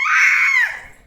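A baby girl lets out one loud, high-pitched scream-cry at close range, held for about half a second before it slides down and fades.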